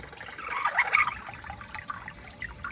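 A garden water pump draws from a rain barrel to keep a bird-bath water feature's reservoir full, and water trickles in with a steady, faint splashing and no voices.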